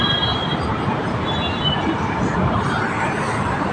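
A Delhi Metro train runs through the station with a steady, loud rumble, carrying high wheel squeal from start to finish.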